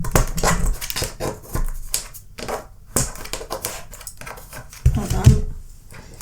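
Tarot cards are pulled from a deck, giving a busy run of rapid papery flicks, snaps and rustles close to the microphone, with a few heavier taps and shuffles.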